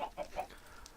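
Chickens in the Minecraft Better Than Wolves mod give a few quick, soft clucks in about a second, faint and alone.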